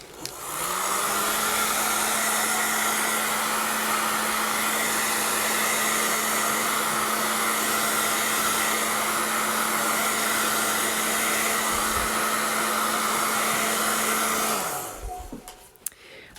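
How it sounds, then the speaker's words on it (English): A hair dryer blows steadily on a mixed media heart painting, a loud, continuous whirring rush with a constant hum that runs for about fourteen seconds, then switches off and fades. "So let's do a quick blow dry."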